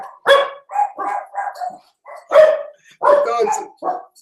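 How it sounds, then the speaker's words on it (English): Dogs in a house bark in quick bursts, several sharp, close barks in uneven clusters with brief gaps between them and no talking. "The dogs thought I was welcoming somebody in the house."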